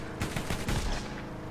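Rapid bursts of gunfire in the video game Borderlands, a quick volley of several close, loud shots lasting about a second, with little else around it.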